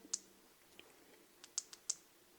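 A flashlight switch clicked several times outdoors near a mine, crisp small snaps spaced irregularly, close and quiet against a faint background hum.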